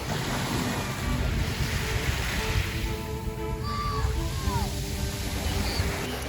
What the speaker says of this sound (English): we'll look at the kind of sound as the water hits the pebbles